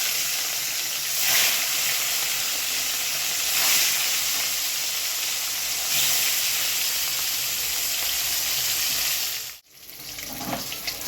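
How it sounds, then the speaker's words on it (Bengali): Pieces of katla fish hit hot oil in a pan, setting off a loud, steady broadband sizzle and hiss that swells briefly a few times as more pieces go in, then drops out near the end. "তেলটা গরম হয়ে গেছে বন্ধুরা, এবার মাছগুলো একে একে ছেড়ে দেই।"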